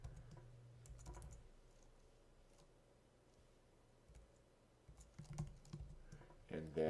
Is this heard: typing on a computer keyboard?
yes